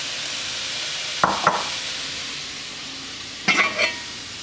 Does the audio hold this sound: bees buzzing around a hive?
no